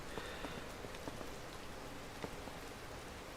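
Steady rainfall in Zelda: Tears of the Kingdom, set around the Faron and Necluda beach and rain forest, pattering evenly on surfaces with scattered sharper droplet ticks, soft and continuous throughout with no one talking.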